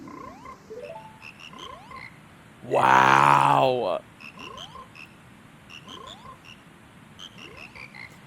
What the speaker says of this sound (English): Randomized music broke the Frog Choir.